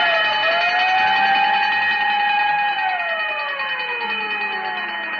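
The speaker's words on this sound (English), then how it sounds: "Whenever you hear the siren and bell, think of Texaco." A wailing siren from a 1936 Texaco Fire Chief gasoline radio advertisement rises, holds a long steady tone, then slowly falls away, loud and alone with no voices.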